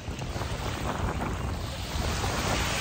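Ocean waves wash and roar steadily at San Andrés beach in Colombia, a continuous broad surf noise mixed with wind buffeting the microphone, fairly loud and with no voices.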